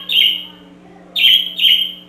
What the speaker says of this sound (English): Yes, are you done, little bird?